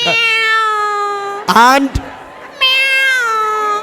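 A person imitates a cat, giving loud, close, drawn-out meows with a sharper, rising cry in the middle, and briefly speaks a word between them.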